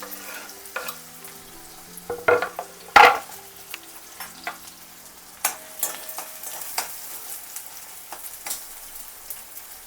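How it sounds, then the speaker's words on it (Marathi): Onion fries in oil in a kadhai, giving a quiet, steady sizzle close by. It is broken by repeated scraping and clanking strokes from a stirring spoon, a few of them loud. "कढईमध्ये आता आपण तो कांदा फ्राय करणार आहे"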